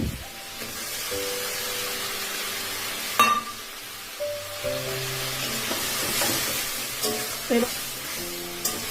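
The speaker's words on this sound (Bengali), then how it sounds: "এবার পটল আর চিংড়ি মাছটাকে মশলার সাথে ভালোভাবে কষিয়ে নেব।" Pointed gourd and prawns stirred through a poppy-seed spice paste in a pan, a steady close sizzle with scraping stirs and spoon knocks, while a background melody plays throughout.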